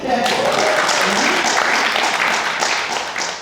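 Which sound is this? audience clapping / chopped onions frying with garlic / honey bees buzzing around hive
audience clapping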